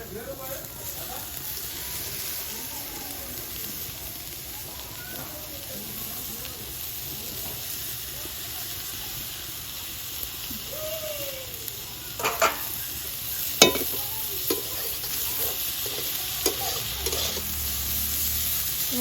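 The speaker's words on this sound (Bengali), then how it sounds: "সুন্দর করে পেঁয়াজের সাথে লাল শোষাটা এবার আস্তে আস্তে আবারও ভেজে দেবো" Chopped onion and gourd peel fry in a pan with a steady, soft sizzle, joined later by sharp scraping and stirring clicks as a voice talks over the cooking.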